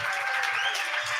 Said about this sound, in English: So give a big round of applause to Bradley Logan